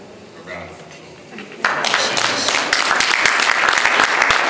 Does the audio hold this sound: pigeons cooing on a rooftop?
no